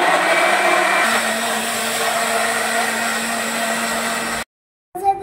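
A mixer grinder blends muskmelon juice with a loud, steady motor whine that shifts pitch slightly partway through, then cuts off abruptly near the end, followed by a brief clatter.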